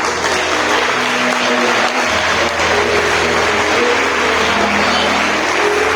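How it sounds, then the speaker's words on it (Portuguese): A church congregation applauds during a Brazilian sermon, dense steady clapping filling the space with music or tones underneath, continuous and loud throughout. "Eu quero te convidar mais uma vez a aplaudir a Jesus"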